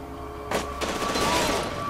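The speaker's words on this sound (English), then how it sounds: "Oh shit, being shot at" Burst of gunfire in the video game F.E.A.R. 2, sudden loud rattling shots that start abruptly and continue densely to the end, close and unaccompanied by speech.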